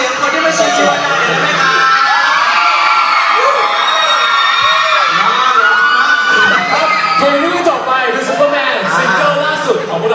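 A crowd of fans at a Seed Show concert in Nakhon Sawan screams and cheers loudly and steadily, with high-pitched shouts and whoops rising and falling throughout.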